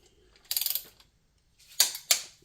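Ratchet on a Jaguar supercharger job clicks in two quick bursts, a rapid run of close clicks followed by a pause and then two sharper clicks.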